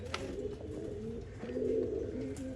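Pigeons from an old-line breed offered for sale in Bangalore coo in low, throaty rolling calls that swell and fade over a couple of seconds, fairly close, with no speech.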